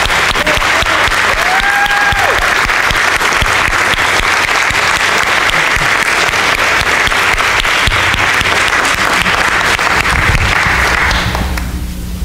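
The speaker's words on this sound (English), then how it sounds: "let us praise God for her service among us with a round of applause here" Church congregation at a Sunday United Methodist service breaks into sustained applause, a loud, even roar of clapping lasting about eleven seconds before it quickly dies away; a brief whistle-like tone rises early on.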